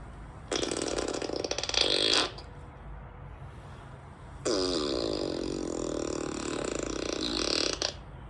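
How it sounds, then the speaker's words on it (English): Two long, loud farts with no talk, the first lasting almost two seconds and the second stretching over three seconds, rasping and sustained. "The longest fart I ever heard in my freaking life."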